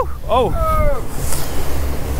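Ocean spray bursts over a fishing boat at sea in wind and waves while tuna fishing, a loud, close rushing wash. A brief voice exclaims over the start.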